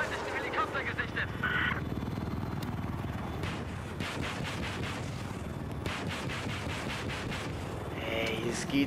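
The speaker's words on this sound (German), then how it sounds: "Ja, ich habe einen feindlichen Helikopter gesichtet." Enemy helicopter in a video game gives a loud, rhythmic rotor chop mixed with bursts resembling gunfire, close and continuous, while a voice talks over it.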